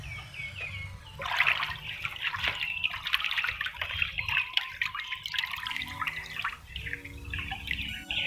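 A green liquid culture mixture being stirred by hand to dissolve its ingredients, giving steady close sloshing and trickling water sounds with small drips, continuous for several seconds with no talking.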